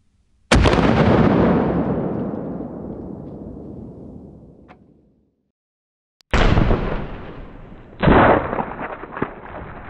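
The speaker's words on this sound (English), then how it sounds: "it's not very often you can hear the bullet impact when you're shooting a rifle, especially that close" A .338 Lapua Magnum shot from a Barrett MRAD sniper rifle booms loudly and rolls away, then a second sharp report and a close, hard bullet impact on a ballistic dummy crack out after a brief silence.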